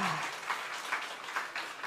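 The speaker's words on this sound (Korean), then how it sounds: "박수 좀 쳐주세요" A congregation at a Sunday evening church service claps faintly and rhythmically, a few soft bursts of hand clapping spaced evenly through a short stretch.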